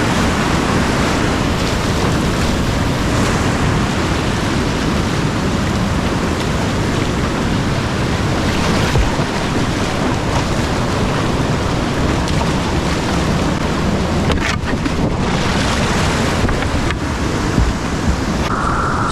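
Loud, continuous rushing water with churning turbulence and wind buffeting as a Waka Skuxx kayak paddles through white water rapids; no talking.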